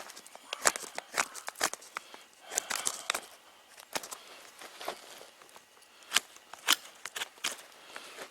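Russian bushcraft knife biting into dry, knotty, twisted spruce in a winter forest, a run of sharp, crisp cracks and scraping cuts in irregular bursts, close and fairly loud, with some low talk.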